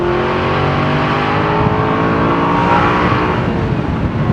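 An Aston Martin V8 Vantage Volante's V8 engine roars loudly and continuously, holding a rich, throaty revving tone with slight swells in pitch.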